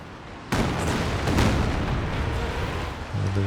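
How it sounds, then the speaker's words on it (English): Katyusha rocket barrage at close range in Company of Heroes 2, a dense, loud rumble of overlapping blasts and booms that kicks in abruptly and sustains throughout, with a low tone entering near the end. "Close range Katyusha barrage."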